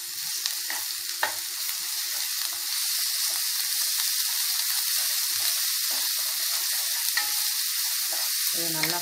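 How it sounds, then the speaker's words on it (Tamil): Ginger garlic paste fries with onions in a pan for a mushroom gravy, giving a steady close hiss and sizzle with occasional stirring clicks and scrapes, and no voices. "இது நல்லா ஃப்ரை ஆகட்டும்."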